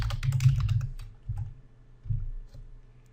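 Keys on a computer keyboard are typed into Excel in a few short bursts of clicks, close and fairly quiet, separated by pauses in an otherwise silent room.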